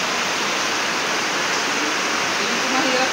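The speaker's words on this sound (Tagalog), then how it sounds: "So yan, lalong lumalakas yung ulan." Heavy rain pours down outdoors in a loud, dense, unbroken hiss that holds steady throughout.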